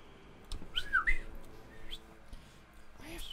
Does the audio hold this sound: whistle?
yes